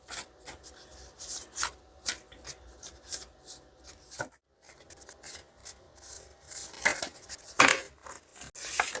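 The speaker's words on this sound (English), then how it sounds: "We're going to pull a couple focus cards first." Tarot cards being handled and pulled from a deck, with a run of soft rubbing, sliding and shuffling strokes in close, uneven bursts and a brief pause partway through.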